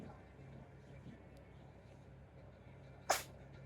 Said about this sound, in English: Thanks for sneezing on me again.